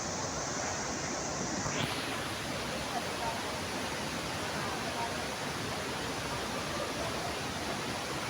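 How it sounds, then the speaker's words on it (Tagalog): Majayjay Falls pours in a loud, steady broadband roar of falling water that fills the whole stretch without pause, close and constant. "Ayun yung falls."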